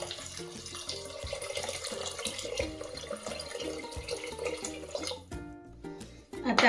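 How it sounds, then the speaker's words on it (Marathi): Hot water poured onto sautéed rice and mint paste in a cooking pot, a brief splashing pour amid kitchen clatter that cuts off near the end. "आता याच्यामध्ये आपल्याला पाणी घालायचं. तर शक्यतो काय करा, गरम पाणी घाला."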